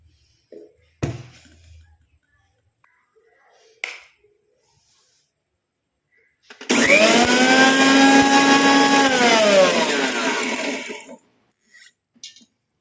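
A mixer grinder whirs loudly for about four seconds as it coarsely grinds herbal ingredients without water, with a few faint knocks and handling sounds before and after the run.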